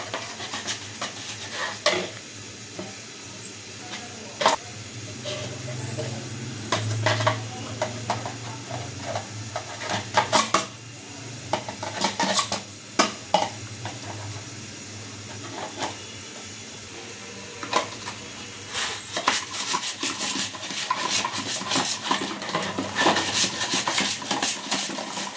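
Busy kitchen cooking with pots and pans: steady sizzling and hissing under repeated clinks and stirring scrapes, loud and close, with clusters of clatter toward the end and no speech.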